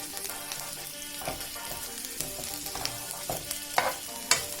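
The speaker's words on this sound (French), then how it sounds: "Donc là, on commence à blanchir nos oignons" Onions frying in olive oil over medium heat for a chakchouka, giving a steady close sizzle with scattered utensil scrapes and sharper stirring clicks toward the end, no voices.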